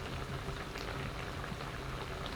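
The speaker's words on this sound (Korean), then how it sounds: "마지막으로 물 150ml 넣어 뚜껑 닫아 양념을 졸이면 맛있는 매콤 두부조림 완성!" Spicy braised tofu sauce simmers in a covered pan with added water, a steady, soft bubbling hiss with no talk.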